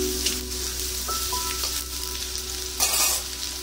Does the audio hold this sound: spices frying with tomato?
yes